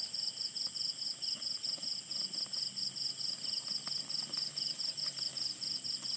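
Crickets chirp in a steady, pulsing chorus with a rapid trill, constant and fairly close, over a quiet rural nighttime background with no voices.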